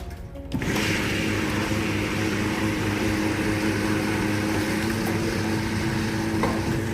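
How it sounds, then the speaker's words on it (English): A wet grinder grinds rice with water into batter, giving a steady, even motor hum with a rumbling churn that starts abruptly and then runs unchanged. "Now we'll grind the rice."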